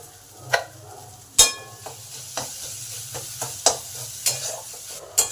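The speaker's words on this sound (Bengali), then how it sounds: "মশলাগুলোর কাঁচা গন্ধ যতক্ষণ না যাচ্ছে ততক্ষণ কষতেই হবে চার পাঁচ মিনিট" Spices fry in oil for a cauliflower-stalk bhorta while a utensil scrapes and clacks against the pan every second or so over a low, steady sizzle.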